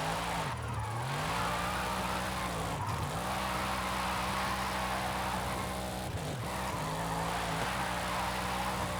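Loud turbocharged car engine in Forza Horizon 5, a continuous droning roar with whooshing turbo noise and a few brief dips where the revs drop and climb again.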